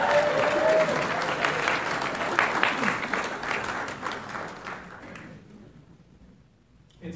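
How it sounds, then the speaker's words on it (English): An audience at a Shakespeare festival gala claps loudly and steadily for several seconds, the applause thinning out and fading toward the end. "Would you join me in a big round of applause for Christy Burgess?"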